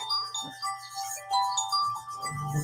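A mobile phone rings faintly in the Sicilian Corner, with soft repeating electronic tones over a low steady background hum.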